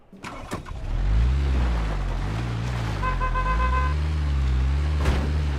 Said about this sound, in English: Gonna jump in a vehicle.